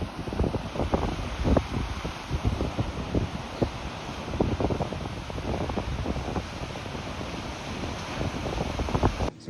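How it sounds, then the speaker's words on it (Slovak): Large ocean waves of three to four metres crash against a cliff on a windy Moroccan coast, a continuous loud roar of surf broken by frequent heavy bursts, with wind buffeting the microphone throughout. "ja by som povedal, že určite 3-4 metrové vlny, lebo jak fúka"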